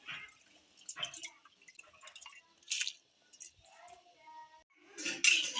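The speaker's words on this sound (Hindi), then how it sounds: "पानी कम थी तो मैंने थोड़ा और डाली है।" Water being poured into a pot of rice as it cooks for kishmish chawal, a splashing, dripping trickle in several short bursts with clinks of a pot, and some faint background speech.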